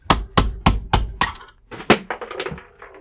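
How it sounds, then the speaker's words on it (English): A steel punch is hammered to drive a piece of brass out of a piece of cast aluminum held in a vise: five quick, ringing metallic strikes, then a looser cluster of lighter taps and knocks, close up. "I'm going to take my punch and I'm going to drive out that little piece of brass"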